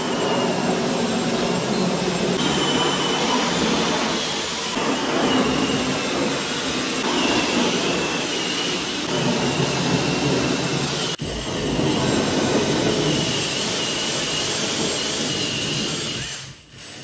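A power drill runs steadily during a LED spotlight installation, a continuous loud whirring hum lasting the whole stretch with only a brief dip midway before winding down at the end.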